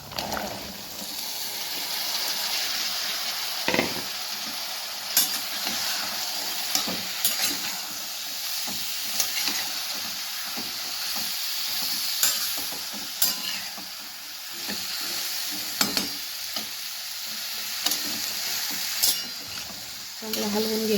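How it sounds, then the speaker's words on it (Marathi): Ridge gourd being stirred and fried with spices in a pan, for a village-style dodka sabzi: a continuous sizzle under repeated scrapes and knocks of a spoon against the pan, steady and close for about twenty seconds. "हलवून घ्यायचं. आपल्याला हे दोडके टाकून घ्यायचे याच्यामध्ये."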